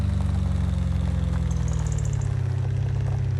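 A car engine idles in a video game, a steady low droning rumble with a slight drop in pitch partway through, loud and continuous with no one speaking.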